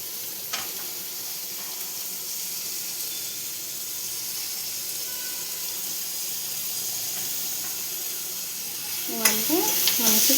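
Chopped onions and green chillies fry in hot oil in a pan, giving a soft, continuous sizzle throughout, with a brief stirring clatter near the end.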